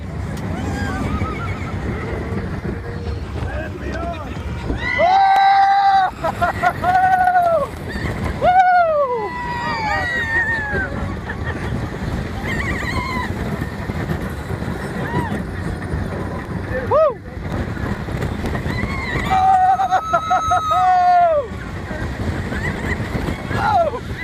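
The Tennessee Tornado roller coaster at Dollywood rushes and rattles along its track with a constant roar of wind, while riders scream and whoop loudly in several rising bursts throughout the ride.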